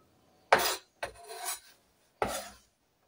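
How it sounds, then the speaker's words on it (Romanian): A sharp kitchen knife slicing a bell pepper on a board: three rasping cuts with short pauses between, close and fairly clear, no talk. "Așa o să procedăm, o să tăiem ardeiul cu buleță."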